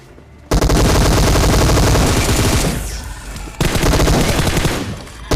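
Dense bursts of automatic gunfire in a video game, loud and continuous, with a brief lull before rapid shots resume close by.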